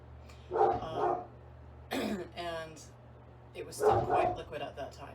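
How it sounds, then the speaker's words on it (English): A dog barks a few times in the background of a workshop while a person talks, the sharp barks appearing between and under the speech at moderate distance. "excuse the dog barking"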